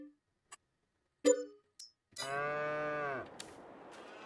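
A cow in the farming video game Farming Simulator 22 gives a single drawn-out moo of about a second, close and clear, after a few short clicks and thumps.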